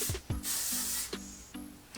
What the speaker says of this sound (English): Now I'm just going to check a little bit of gentle hairspray through it